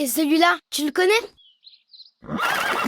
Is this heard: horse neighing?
yes